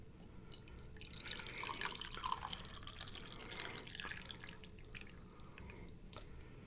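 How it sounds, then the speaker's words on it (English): Freshly boiled water poured from a cup into a container, a faint steady trickle with small splashes and drips, heard close and alone. "Just boiled some water and put into a cup where I can more easily pour it into this"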